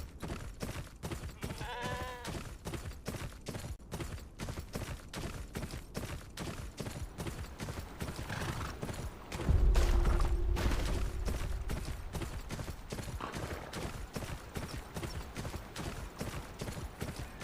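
Horse hooves in Game of Thrones: Kingsroad pound in a steady, rapid galloping rhythm throughout, close and even, with a brief louder whoosh midway and occasional faint animal calls.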